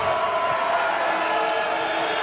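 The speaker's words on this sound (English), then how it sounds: "Crowd coming back to life." Spectators cheer at a Legends Football League game in the Legends Cup between Chicago Bliss and Seattle Mist, producing a steady, dense wash of distant crowd noise that holds without break.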